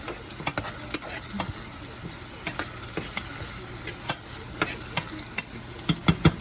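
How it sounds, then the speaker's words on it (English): Chopped tomatoes fry in a pan for sambar, making a constant near sizzle broken by frequent sharp scraping knocks of a utensil stirring against the pan. "now we have to fry the tomatoes as well until they turn a bit brown color"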